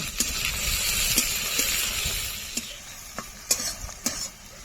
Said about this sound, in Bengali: এবার দিয়ে দেবো টমেটো কুচি এবার কিছুক্ষণ ভেজে নেব